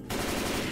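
Rapid automatic gunfire in the Left 4 Dead video game, shooting at a Hunter, a dense continuous burst that starts abruptly and stays loud throughout.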